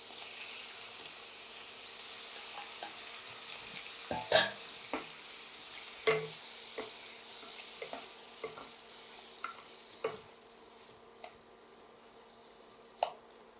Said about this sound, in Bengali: চিংড়ি মাছগুলোকে ঘিয়ে আমি ভেজে নেব।